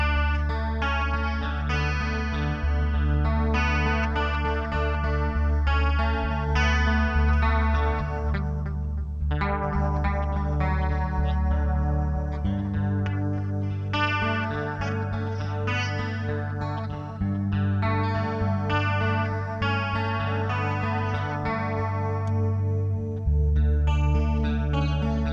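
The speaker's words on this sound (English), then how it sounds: "it also does vibrato. So really deep and really slow for me." An electric guitar runs through a Boss DM-3 analog delay pedal set to deep, slow vibrato, chords and sustained notes wavering in pitch with repeating echoes trailing behind, played steadily for about twenty-five seconds.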